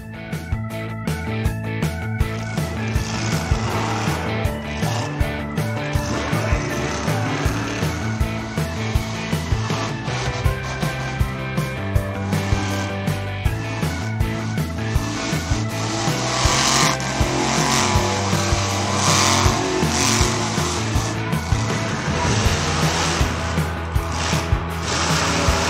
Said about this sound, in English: This green monster truck is doing a wheelie.